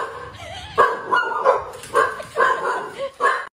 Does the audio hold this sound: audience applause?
no